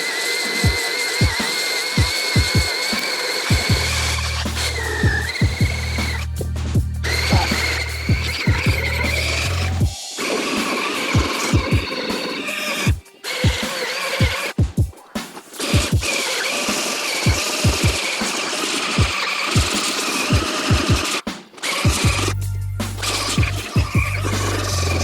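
A rotary cleaning brush scrubs the mesh and white parts of a Nike LeBron player-exclusive sneaker, giving a loud, steady whirring scrub with repeated short bursts and brief pauses, sounding alone throughout.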